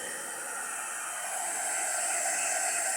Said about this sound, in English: If you have a hair dryer, you can turn the hair dryer on cool